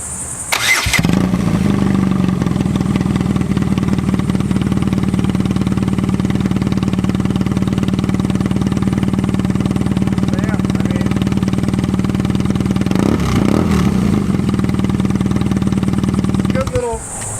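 A 2017 BMW R nineT Pure motorcycle fitted with a Pro Race GP-S1 exhaust idles loud and close with a deep, steady burble. The engine catches at the start, rises briefly in the middle and cuts off at the end.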